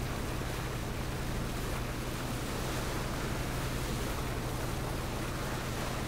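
Boat sailing across water in PUBG on Erangel, a continuous engine drone with rushing water and wind noise, steady and loud throughout with no talking.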